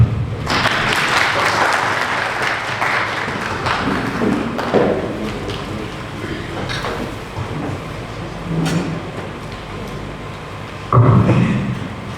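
Applause from an audience at a South African district electoral commission gathering, steady clapping that gradually thins, with a louder burst of claps near the end.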